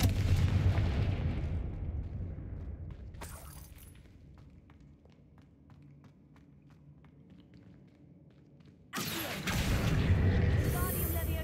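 A Confringo blasting spell erupts in Hogwarts Legacy with a loud, booming explosion, dies away into quieter ticking and footsteps, and then a second heavy blast bursts in near the end.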